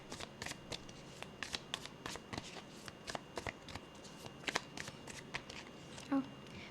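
Tarot cards shuffled by hand, a series of crisp riffling flicks and soft slaps of cards dropping, fairly quiet and close, repeating irregularly throughout.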